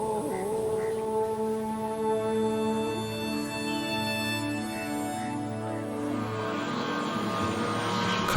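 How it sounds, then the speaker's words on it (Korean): A propeller airplane carrying trekkers from Kathmandu flies low over the rooftops of a slum in Pokhara, a steady droning engine with tonal whine, loud and sustained throughout. "카트만두에서 트레킹 여행객을 실은 비행기가 30분 간격으로 빈민천의 지붕을 스치듯 내려앉습니다"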